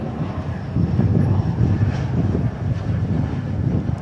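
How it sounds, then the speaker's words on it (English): A Cessna Citation Latitude business jet operated by NetJets rumbles at DFW International Airport, giving a steady broad roar that swells and holds at moderate distance. "Got a little Cessna Citation NetJets Latitude."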